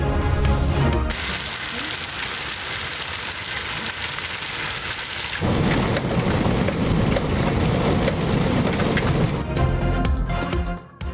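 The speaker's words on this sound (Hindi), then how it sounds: "कोयटा, सिब्बी, बारखान, कल्लात, चमन और पश्चिम समेत मुख्तलिफ इलाकों में गरज चमक के साथ मूसलाधार बारिश।" Heavy rain pours down during a thunderstorm in Balochistan, a loud, dense, steady roar of rainfall with a deeper rumbling surge in the middle, heard without any talking.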